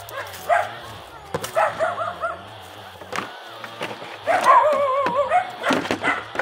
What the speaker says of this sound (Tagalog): Ano ba ginatahol-tahol mo yun?